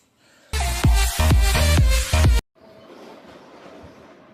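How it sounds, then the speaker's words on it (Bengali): A train passing near a shop, a loud burst of roughly two seconds with a rhythmic pattern of repeated pulses that cuts off abruptly, followed by a faint steady background murmur. "ও ট্রেনের আওয়াজটা"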